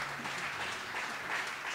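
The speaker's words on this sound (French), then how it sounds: "So give her a round of applause." Quiet, distant applause for a young female guitarist at a gathering, a soft continuous patter of clapping with no voice over it.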